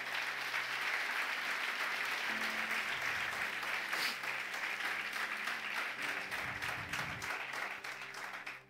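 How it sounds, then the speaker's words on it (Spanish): A church congregation claps for Jesus during a sermon in a Spanish-speaking church, a steady wash of applause that fills the room from start to finish and fades slightly at the end, with no talking over it. "Denle un aplauso fuerte a Jesús."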